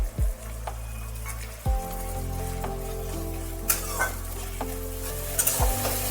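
Vegetarian potato curry (niramish alur dom) with ginger paste sizzles steadily in a pan as the leftover ginger-paste water is poured in; a spoon scrapes and stirs at a few sharp, close moments over the continuous frying hiss.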